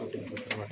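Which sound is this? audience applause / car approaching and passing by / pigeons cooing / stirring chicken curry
pigeons cooing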